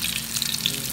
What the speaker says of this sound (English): I will be frying my avocados in grapeseed oil